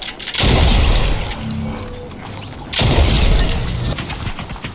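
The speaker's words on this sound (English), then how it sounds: "shooting on us" Fortnite gunfire and explosions, with two loud booming, crashing bursts, one near the start and another midway, each decaying into rumbling debris and rattling.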